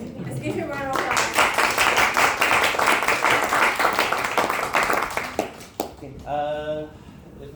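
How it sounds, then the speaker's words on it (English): Members at a Toastmasters club meeting clap for several seconds, crisp close hand claps that build then taper off, with a few last claps before someone starts talking. "Let's give him a round of applause."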